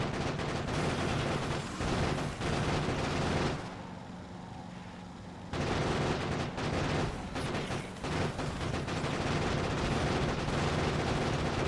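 A barrage of grenade explosions in Factorio Space Age, rapid overlapping booms and crackling bursts that roar on, drop away for about two seconds, then resume just as loud and dense.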